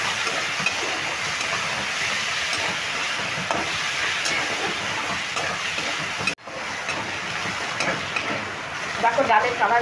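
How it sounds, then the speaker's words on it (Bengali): Masoor dal and onions fry in a pan with a steady sizzle and repeated scraping stirs, broken by a sharp momentary cut, then livelier clinking stirs toward the end. "মুসুরির ডালটা দিয়েও আমি ভালো করে নেড়ে"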